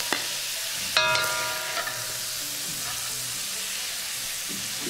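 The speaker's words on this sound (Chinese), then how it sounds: "进行翻炒，但是时间不宜过长。" Stir-frying ingredients in a wok for old Beijing zhajiang sauce, a steady soft sizzle with scraping stirs and a brief metallic clink early on, continuous and fairly close with no talk.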